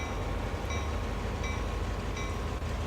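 Diesel locomotive in Train Sim World 2 on the Sand Patch Grade route, rolling slowly onto a turntable: a steady low engine rumble with faint intermittent high tones, continuous and fairly quiet throughout.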